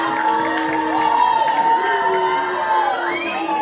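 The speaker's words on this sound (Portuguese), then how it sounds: "E a torcida do Ribeiro Magalhães faz umas vaias para a arbitragem." A crowd of supporters at an under-11 youth football match in Piauí boos the referee, a loud, sustained mass of voices with rising and falling jeering tones that continues throughout.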